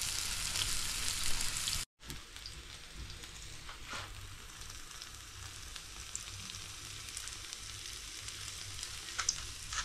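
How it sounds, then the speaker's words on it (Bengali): Chicken cheese kebabs frying in hot oil, a steady close sizzle and crackle with a brief cut partway through, continuing evenly without voices. "আমি সবগুলো ভেজে নিই"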